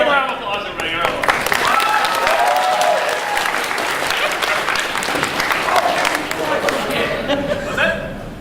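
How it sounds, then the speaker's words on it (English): Enthusiastic applause from a convention panel audience at ASTL 2011, steady clapping mixed with cheers, chatter and a few laughs and voices throughout. "Give a round of applause, everybody."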